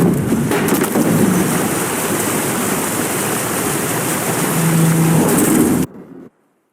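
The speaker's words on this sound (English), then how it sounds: "Didn't bargain for no storm." A thunderstorm at sea in The Witcher 3, with a loud, dense roar of heavy rain and wind that continues steadily and then cuts off abruptly into near silence.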